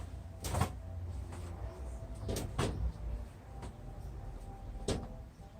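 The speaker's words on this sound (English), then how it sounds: "hear that little creak?" A few brief, sharp creaks and clicks from a zip tie under a foot on a hammock setup stand out at irregular moments over a steady low background rumble.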